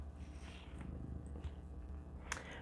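A large cat purrs close by in a low, steady rumble, quiet and continuous, with a few faint clicks and no talk.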